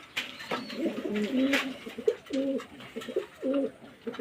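Several adult pigeons coo close by in a loft in soft, repeated throaty calls, overlapping with faint rustles and a light tap or two.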